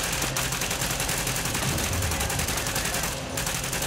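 Rapid automatic assault rifle fire with an extended magazine in The Division video game, a dense, continuous burst of evenly spaced shots at close range, with a short pause near the end.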